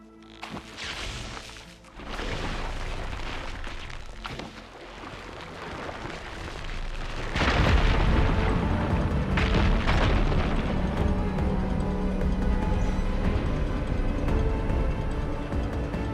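A Fire Gleam charge detonates against blocking rubble in Horizon Forbidden West: after quieter clattering and thuds, a loud explosive burst hits and leaves a sustained, heavy rumble of crashing debris.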